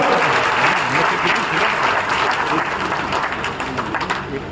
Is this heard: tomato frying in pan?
no